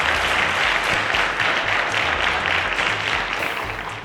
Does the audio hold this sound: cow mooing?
no